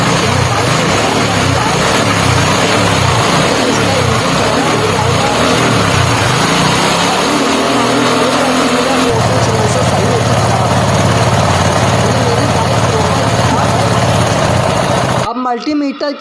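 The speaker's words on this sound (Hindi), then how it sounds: "तो इस तरीके से पहले इसको इंजन को गरम कर" A TVS XL BS6 fuel-injected bike engine running to warm up, a steady loud idling drone that shifts to a lower, smoother note midway, with someone talking over it before it cuts off abruptly.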